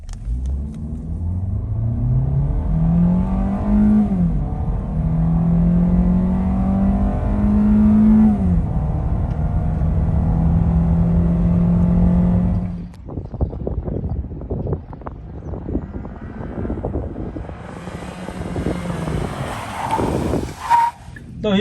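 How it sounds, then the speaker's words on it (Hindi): A 2021 Kia Sportage AWD accelerating from 0 to 100 km/h, its engine droning loud and steady through rising gear pulls with brief dips at shifts, then giving way to rumbling road and wind noise. "अभी अभी आपको इसका 0 to 100 ड्राइव करके दिखाया है"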